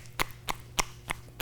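Five quick, light hand slaps from Thai massage chopping strokes land at a steady, even rhythm, close by, over a low background hum.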